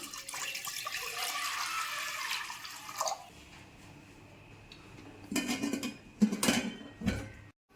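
Lentils for a moong dal and ponnaganti greens dish rinsed and water poured into a pressure cooker: a steady rushing pour of water, then a pause and several short clattering splashes and knocks of the metal pot close by.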